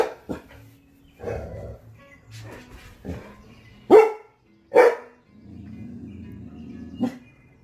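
Dogs bark in short separate bursts, a few sharp woofs standing out loudly between quieter whimpers and rustling noise, close by, with a little background sound between barks.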